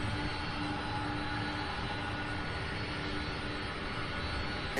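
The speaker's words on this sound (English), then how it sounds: "this MD-11 on your screen here, getting ready to take off for Portland" A McDonnell Douglas MD-11 prepares for takeoff at an airport, its jet engines giving off a broad, continuous roar that stays steady and fairly distant.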